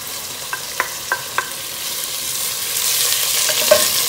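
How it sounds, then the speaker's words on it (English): Streaky bacon browning in oil in a pan, giving a soft, steady sizzle with a few sharp clicks of a utensil early on, close and moderately quiet. "Pop in the streaky bacon as well. And we'll just let that brown for a bit."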